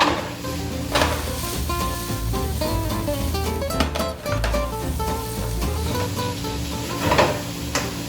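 Tomatoes fry in a hot pan for a stir-fried sitaw and tuyo dish, a continuous close sizzle with occasional stirring clatter and utensil clinks.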